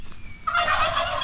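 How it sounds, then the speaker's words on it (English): A turkey on a working farm in the Philippines lets out one loud, close gobble, a rapid warbling burst that follows a brief faint whistle-like note. "Oh, look at the turkeys."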